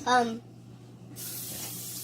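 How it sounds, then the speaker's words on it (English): Cooking spray hisses steadily onto cake pans being greased for a birthday cake, a broad airy spray that starts after a brief spoken word and continues close and even to the end. "So I'm going to go ahead and spray these pans."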